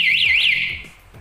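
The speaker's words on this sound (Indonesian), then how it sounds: "Ketika ada getaran seperti ini" A loud bicycle alarm triggered by vibration gives a single short warbling wail that rises and falls twice, then cuts off, with faint knocking beneath.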